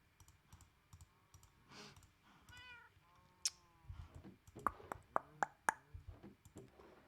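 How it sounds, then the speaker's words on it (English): Sharp tongue clicks, several in a quick irregular run, sit close and fairly loud among soft meows from a cat, with no talking. "Clickety-clack of the tongue."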